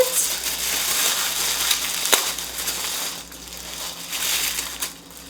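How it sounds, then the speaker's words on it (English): Crinkling, crushing paper or wrapping being torn and handled up close while a Christmas present is unwrapped, a steady rustle with a sharp crackle near the middle and a softer lull before the crinkling picks up again. "this is kind of a little unboxing slash unwrapping"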